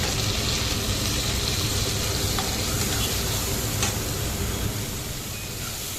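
Onion and garlic paste frying in oil for a Bengali fish curry, a steady dense sizzle with stirring scrapes, loud and close throughout, fading slightly near the end.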